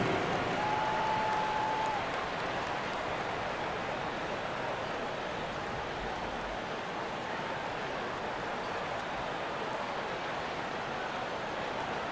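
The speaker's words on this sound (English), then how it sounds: "Round of applause." Steady, moderate crowd applause fills an NBA 2K24 basketball arena in a Pelicans versus Magic game on PS5, a broad wash of clapping that holds evenly throughout with no voices standing out.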